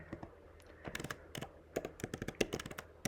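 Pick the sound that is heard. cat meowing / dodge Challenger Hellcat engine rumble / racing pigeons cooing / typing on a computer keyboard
typing on a computer keyboard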